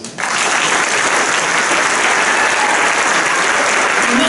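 Loud, sustained applause fills a hall at a carnival children's prince couple coronation in Düsseldorf, a dense wash of clapping from a large audience that starts abruptly and holds.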